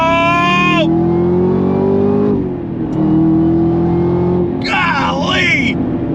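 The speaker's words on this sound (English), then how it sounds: "On throttle!" A Chevrolet Camaro ZL1 1LE V8 accelerates at full throttle from inside the cabin, a loud rising roar through the gears with a shift dip midway and a voice exclaiming over it.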